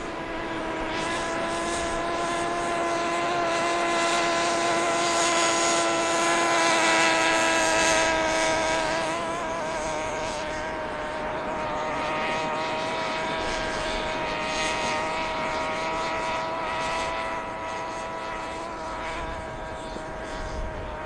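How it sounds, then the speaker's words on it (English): Radio-controlled car motor on a beach, a loud sustained high-pitched whine with steady tones that shift slightly in pitch over about twenty seconds, with wind and surf noise behind it. "there's a guy down here playing with a radio-controlled car. It's pretty loud."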